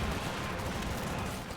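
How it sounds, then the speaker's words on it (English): An LMG fires from a distance in the video game Company of Heroes 2, heard as a dense, continuous rattle of gunfire at steady loudness for the whole short moment. "LMG far away, hitting the captain who's not behind heavy cover"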